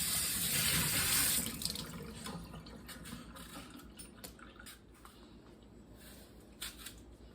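Tap water runs steadily into a kitchen sink while pears are rinsed, a loud gushing stream at first that softens into splashing and drips, with light clinks and handling noises throughout and no talking.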